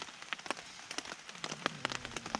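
Rain patters at night in the woods during a wet, windy camp with a bivvy bag, scattered sharp drops landing close on a surface in an irregular rhythm over a low hiss, with no voices.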